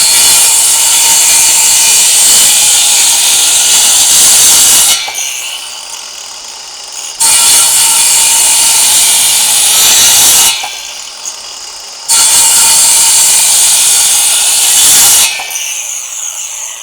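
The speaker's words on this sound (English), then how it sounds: "I just wanna see how the saw behaves when you're cutting a timber that's not going all the way through" A Ryobi 18V 165mm circular saw cuts into thick timber in three loud, steady bursts of high whining and rasping, each separated by a brief pause, with no talking.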